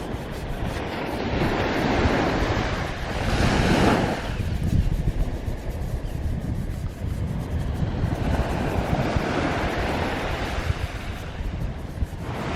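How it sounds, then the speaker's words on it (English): Steady ocean surf washing against rocks, a continuous broad rush with gentle swells rising and falling, alone without voices. "the surf is pretty mellow today"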